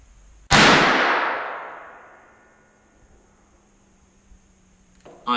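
A single sharp crack from a Savage Arms Axis .223 rifle, fired at a target range, is loud and close, then rings out in a long fading tail lasting about two seconds.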